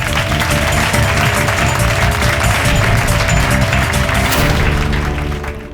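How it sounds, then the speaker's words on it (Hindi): Dense, sustained applause from a studio audience on a courtroom drama set fills the whole stretch, loud and steady with no pause, fading slightly at the very end. "तालियां!"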